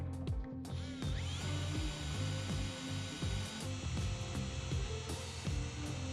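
Metal punching and tool work on a steel trailer box for a flatbed trailer install, heard as a run of sharp knocks and ratcheting mechanical clatter close by, with no talking.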